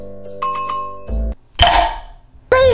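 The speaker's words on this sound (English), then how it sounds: "Hit that notification bell." A notification bell sound effect rings out as a bright, sustained chime of several clear tones, loud and close, followed by other short effect sounds.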